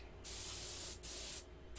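Spray paint hissing in two sustained bursts as green paint is applied to a P51 model, each burst close and steady with a brief pause between them and no talk.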